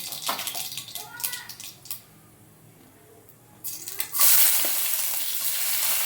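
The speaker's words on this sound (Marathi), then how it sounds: "आता आपलं तेल तापलेलं आहे आता मोहरी टाकून घेऊया जिरे पण टाकून घेऊया" Mustard seeds and cumin hit hot oil in a pan, breaking into a loud, bright, continuous sizzle after a stretch of quieter kitchen sounds and someone talking.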